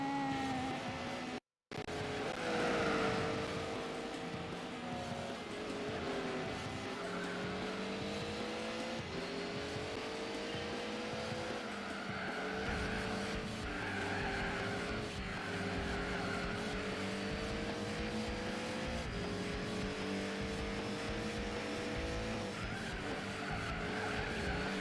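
Toyota Corolla AE86 racing in Gran Turismo 4, engine droning and shifting pitch steadily with rising and falling revs and tire squeal for the whole stretch, loud and continuous with a brief dropout near the start.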